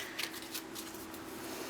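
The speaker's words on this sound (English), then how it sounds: "It's very hard to shuffle at this angle." Tarot cards are shuffled by hand during a reading, quiet crisp riffling flicks in a few short bursts over a faint steady hum.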